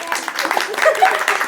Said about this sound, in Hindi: तालियां बजाई जाए